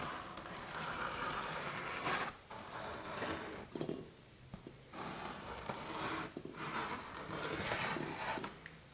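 A marker nib scratches and drags across rough cardboard coated in many layers of paint, giving bursts of dry rasping friction with short pauses between strokes, close and moderately loud.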